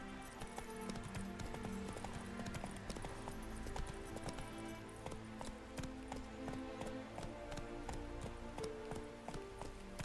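Roach, Geralt's horse in The Witcher 3 on PS5, trots with steady clip-clop hoofbeats over a dense bed of game music and ambience, the hooves close and continuous throughout.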